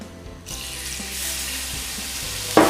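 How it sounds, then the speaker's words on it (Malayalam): Water poured into sizzling egg roast masala with turmeric and chili powder in a pan, as a loud steady hiss that bursts out and stays, ending in a sharper splash, with no talking. "ഇത് സ്വല്പം വെള്ളം ഒഴിച്ചു കൊടുക്കുക"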